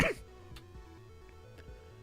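A person gives a single brief cough right at the start, then a quiet background with soft, repeating electronic game tones continues.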